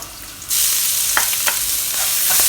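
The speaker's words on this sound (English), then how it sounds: "Fry until you can smell them." Eight cloves of garlic and six chopped shallots fry in hot oil in a wok, a loud, steady sizzle that swells suddenly and continues, with a few stirring scrapes near the end.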